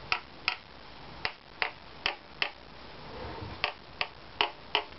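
Sharp knocks on a bare Opus 15 guitar top plate, about a dozen separate taps at an irregular, slightly uneven pace, each short and crisp with a quick woody decay, close and fairly quiet with no voice.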